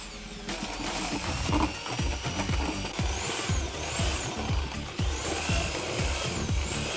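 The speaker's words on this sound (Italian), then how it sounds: "con la miscelatrice e un trapano andate a mescolare il tutto." A power drill with a mixing paddle whirs steadily while churning thick grout, with a repeating scraping, knocking rhythm throughout.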